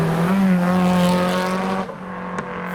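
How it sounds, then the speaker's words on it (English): A Nissan S14 arrives fast at a JDM car meet in pouring rain, its engine note loud and near, rising and holding before easing off as it passes, with wet road noise underneath. "What's that approaching? It's an S14 at quite some speed."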